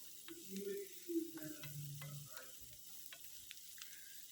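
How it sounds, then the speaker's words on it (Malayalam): Two small sliced onions sautéing in oil in a pan for a Kerala chicken curry, a faint, close, steady sizzle with soft scraping stirs and occasional light utensil clicks. "ആ ഓയിലിലേക്ക് ഞാൻ 2 ചെറിയ സൈസ് സവാള അരിഞ്ഞത് ചേർത്ത് കൊടുത്തിട്ടുണ്ട്."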